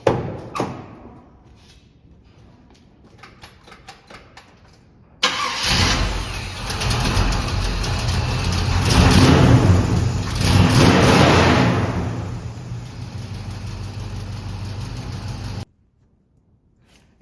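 A 350 V8 with aluminum intake and headers, not run in a while, cranks briefly before catching, then roars into a loud rough idle and revs that swell and settle before cutting off abruptly.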